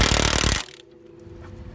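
A burst of rapid hammering from an impact wrench tightening a nut, loud and close for about half a second before cutting off to a quiet hum.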